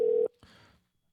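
A telephone busy signal sounds as one short, steady tone burst that cuts off abruptly, followed by a faint, brief click and hiss before silence.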